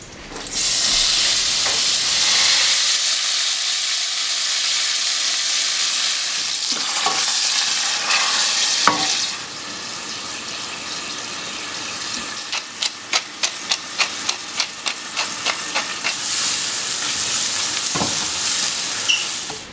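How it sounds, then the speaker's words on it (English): Leeks frying with bacon and garlic in olive oil in a pan, a loud close sizzle with stirring scrapes, then a burst of sharp rhythmic spatula taps against the pan near the end. "I'm gonna go ahead and drop our clean leeks into the pan."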